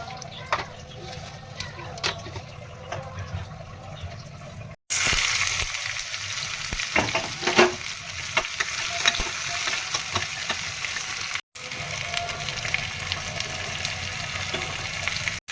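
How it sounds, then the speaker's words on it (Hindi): Okra and onion frying in a pan, a steady broadband sizzle with stirring scrapes and clatters, loud and close, interrupted by two brief cuts to near silence. "चलिए भिंडियों को छोक लेते हैं।"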